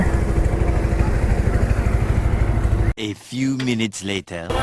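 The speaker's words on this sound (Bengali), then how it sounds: "এদিকে একটা নৌকা যাচ্ছে" A motor boat on the Meghna river at Chandpur, its engine a loud, steady, close chugging drone that cuts off abruptly after about three seconds, followed by a person speaking.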